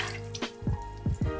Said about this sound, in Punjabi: ਅਤੇ ਹੁਣ ਆਪਾਂ ਇਹਨੂੰ ਵੀ ਇੱਦਾਂ ਪਾ ਦੇਣਾ ਵੀ ਪਾਣੀ